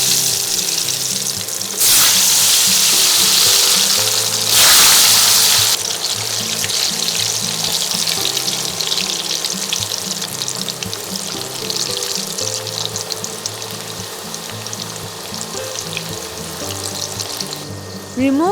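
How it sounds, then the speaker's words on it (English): Potatoes deep-frying in hot oil in a Bengali-style kitchen, a loud sustained sizzle and crackle with brief bursts of stronger hissing and a steady rumble underneath, no speech. "Heat oil and deep fry the potatoes."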